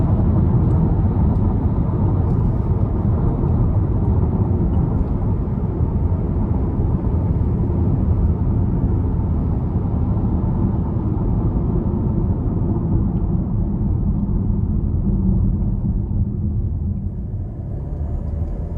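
Steady low road rumble inside a Buick Envision ST AWD cabin while driving, a continuous muted drone with no voices, easing slightly near the end.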